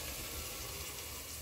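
Muthokoi frying in a pan gives a steady, even sizzling hiss that stays close and constant for a short stretch, with no talk.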